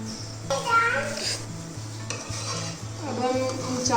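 A spoon scrapes and stirs boiled rice in a pot for sweet zarda. The steady, close clinking and scraping runs throughout over a faint musical backdrop.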